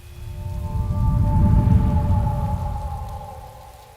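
Rain patters in a soft, swelling rush that builds and fades over a few seconds, with a faint sustained hum running beneath it.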